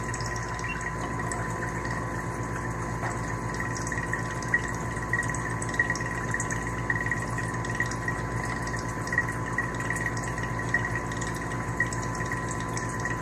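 Water flowing through a particle counter sensor during a ten-second, 10 mL count: a steady, even rush with a low pump-like hum and faint drips, constant from start to end, with no voices.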